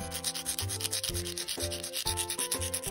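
A white sanding block rubs across an artificial nail tip in quick, repeated back-and-forth strokes, soft and close, with steady background music playing throughout.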